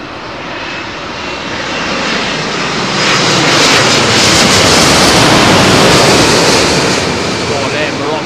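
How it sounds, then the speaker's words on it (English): A Royal Air Maroc Boeing 787 Dreamliner on approach to Heathrow's runway 27L roars overhead, its jet engines swelling to a loud, broad rushing drone that holds steady and then slowly eases. "Maroc bringing their Dreamliner in today"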